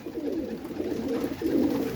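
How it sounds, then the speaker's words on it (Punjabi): Pigeons kept for sale cooing in repeated soft, low, throaty bursts, close by, with no talk. "ਕਬੂਤਰ ਦੇਖ ਲਓ ਤੁਸੀਂ 100 ਕਬੂਤਰ ਆ ਬਾਈ ਆਪਣੇ ਕੋਲ"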